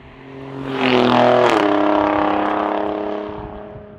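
An Alfa Romeo Giulia Quadrifoglio's 505-horsepower, Ferrari-derived engine revs hard, its pitch climbing sharply, then settling into a loud, steady roar before easing off.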